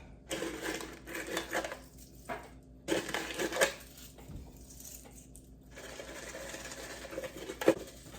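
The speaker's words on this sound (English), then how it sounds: "Just some crispy onions. I'll put it on half." Crispy fried onions are scattered over a dish of Philly-style mac and cheese, producing light crunchy rustling and pattering in bursts, close and fairly quiet.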